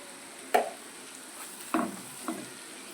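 Egg keema with turmeric, chili powder, garam masala and salt is stirred in a pan over a low sizzle, with three distinct scraping strokes spaced apart, close by and with no voices.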